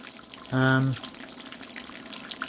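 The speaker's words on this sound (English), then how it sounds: "So anyway, we're sparging. We are running off into the boil kettle." Wort runs from a sparge arm into the boil kettle while homebrewing a NEIPA, a brief burst of pouring liquid with a tonal ring lasting under half a second. Afterwards only faint background remains.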